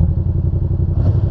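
A Yamaha FZ-07 motorcycle engine rumbles up close in a loud, steady, throbbing idle with a pulsing low-end beat, and a brief rise in tone near the end.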